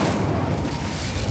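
The Incendio fire spell cast in Hogwarts Legacy, a loud dense roaring blast of flame that holds steady and close for over a second without a break.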